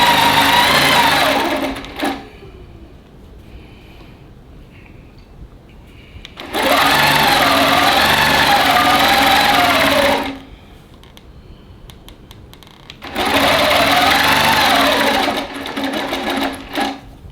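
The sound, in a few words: long arm sewing machine stitching a tote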